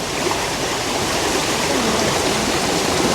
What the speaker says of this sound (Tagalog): Oh, ayun, may falls doon